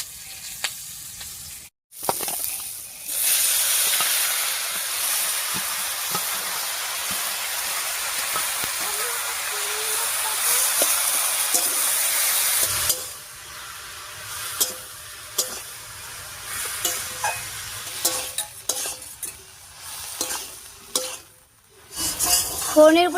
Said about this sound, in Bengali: ফোড়নের উপরে কচু শাকটা দিয়ে একটু নাড়িয়ে নিয়েছি